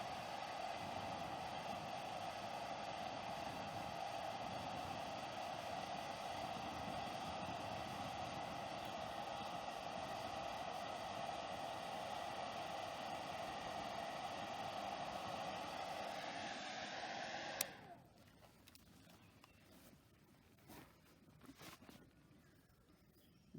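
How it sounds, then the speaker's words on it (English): A wind machine blows air across a small test fire of dry and wet fuels, heard as a steady close rushing whoosh that cuts off sharply near the end, leaving faint room noise. "Turn the wind off, otherwise it'll just blow the fire out"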